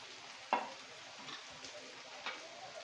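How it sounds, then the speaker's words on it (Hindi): Dry spices tipped into sizzling whole black masoor dal in a pan, a faint continuous sizzle with a sharp clink of a spoon on the pan and a few quieter taps. "अब इसमें हम सूखे मसाले डाल देंगे।"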